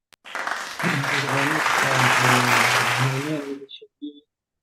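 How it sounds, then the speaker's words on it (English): Virtual clap welcoming a speaker at an online Asia Pacific club meeting, a sustained burst of applause overlaid with cheering voices and a tonal sound effect, fairly loud for about three seconds before fading into brief trailing sounds. "Let's welcome him with our virtual clap."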